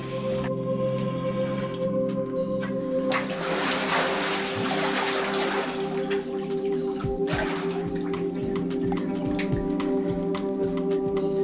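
Water trickles and drips steadily inside a cave, with splashy bursts of heavier flow and a constant tonal hum behind it, fairly loud and close.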